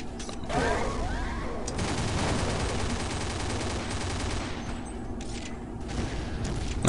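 A P90 fires rapid, continuous bursts in Counter-Strike's zombie mode, a dense, loud, rattling stream that runs for several seconds with a few brief gaps.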